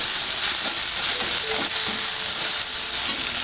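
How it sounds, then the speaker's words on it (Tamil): Onion and tomato sauté in a pan for mushroom gravy, a steady, close, bright sizzle and hiss that continues without a break and with no talking. "பச்சை வாசனை போகிற வரைக்கும் நல்லா வதக்கி விட்டுப்போம்."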